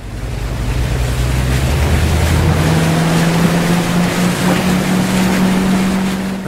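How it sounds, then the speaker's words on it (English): A steady boat engine in the video game City Life 3 drones loudly over rushing water and wind, its low hum rising in pitch partway through and holding, with no talking. "now let's hear the roar of the engine and head off to this location"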